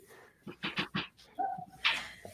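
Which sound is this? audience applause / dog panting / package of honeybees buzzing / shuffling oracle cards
dog panting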